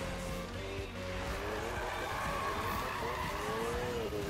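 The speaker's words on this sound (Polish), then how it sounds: "Driftuję troszeczkę z Nitrem pierwszy raz." A car drifting with nitro in Need for Speed 2015, tires skidding in a long continuous squeal over a steady engine drone, loud and close throughout.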